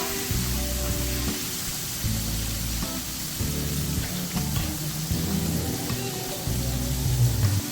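Chicken poppers fry in a pan with a steady, close crackling sizzle that swells and dips in regular pulses, loud and alone with no talk.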